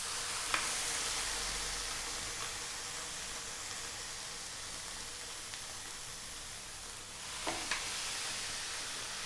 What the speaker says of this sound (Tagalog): Mainit na po yung aking skillet. Lalagyan na po natin yung ating pork loin.